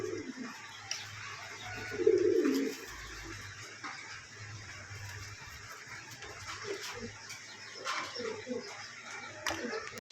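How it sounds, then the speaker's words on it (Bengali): A pair of grey King pigeons coos at close range, with one louder throaty coo followed by quieter calls, while people talk nearby and a dog barks faintly in the distance. "এখানে টপ কোয়ালিটির একজোড়া কিং কবুতর আছে"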